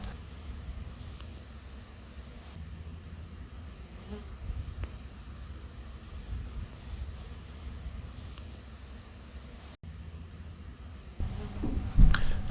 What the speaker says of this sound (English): you can just tell from the static going on how many bees, tens and tens of thousands of bees, are just swarming around here right now